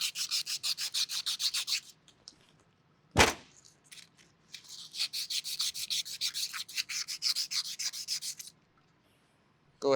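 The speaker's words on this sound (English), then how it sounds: "We'll go ahead and use some sandpaper." Sandpaper scrubs paint off a pump drive shaft in fast, rhythmic back-and-forth strokes, close and crisp, broken by a pause and a single clunk before the rubbing resumes.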